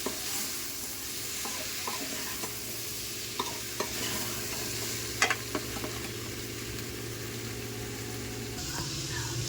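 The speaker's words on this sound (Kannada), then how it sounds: "ಈಗ ಟೊಮೊಟೊ ಹಾಕಿದ್ದೀನಿ, ಚೆನ್ನಾಗಿ ಮಿಕ್ಸ್ ಮಾಡಬೇಕು" Chopped tomato sizzling and being stirred in a pan while chicken gravy cooks, with steady frying hiss, a few scrapes and clinks of the spoon, and a low hum running underneath.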